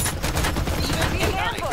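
Rapid automatic gunfire bursts in the battle royale shooter Farlight 84, dense and continuous through the whole moment, with a voice talking over the shots.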